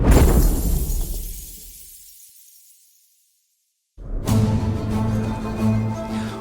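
Glass shatters in the VR game Glassbreakers as a loud, close crash that fades into silence, then a bright burst of breaking glass with a tinkling, ringing spray that carries on to the end.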